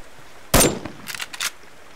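A single sharp rifle shot fired at a deer in the hunting game Subsistence, loud and close, followed by a few fainter clicks and rattles of the weapon.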